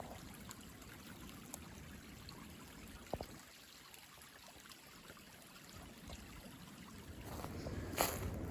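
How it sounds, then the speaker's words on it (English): A small woodland creek at a trail crossing flows with a soft, steady trickle and babble, faint and continuous, with no voices. "Cool little small creek crossing here."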